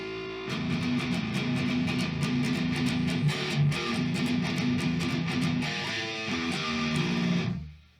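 Distorted electric guitar playing a fast, dense riff from a metal song, with rapid chugging notes, steady and loud for about seven seconds before cutting off, no talking.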